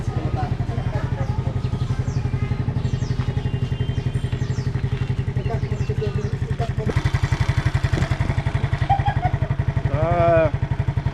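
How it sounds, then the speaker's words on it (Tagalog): A Yamaha Mio Sporty motorcycle engine idles steadily and fairly quietly up close, with a low, even thrum lasting throughout while people talk over it. "Tahimik yung makina mga."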